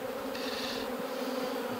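Honeybees around an open hive make a dense, continuous buzz that stays close and steady throughout, with a brief higher whine from a single bee passing nearby.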